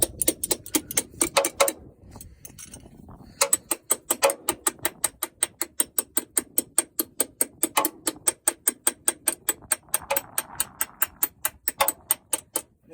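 Ratchet wrench turned in quick, even clicks on a 5 ton truck, loud and near, with a short pause early on before a long, regular run of ratcheting.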